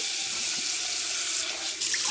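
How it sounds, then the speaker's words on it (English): A sink tap runs steadily, water gushing in a constant hissing stream close by with a slight shift in tone near the end. "turn the water on"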